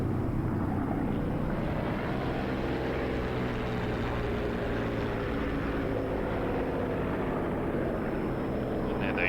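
A Bf 109 fighter in the combat flight simulator DCS drones past with a steady, loud propeller engine roar that stays constant throughout with little change in pitch.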